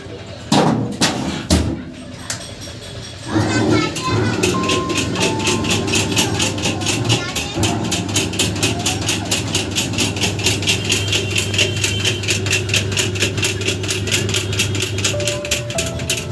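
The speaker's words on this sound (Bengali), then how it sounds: "দেখুন বন্ধুরা এবার মিক্স হচ্ছে, মেশিন একদম ভালো করে মিক্স হয়ে যাবে" Automatic paint colour mixing machine in a shop, a few loud clunks at first, then a steady rhythmic mechanical rattle and hum running continuously, with people talking faintly in the background.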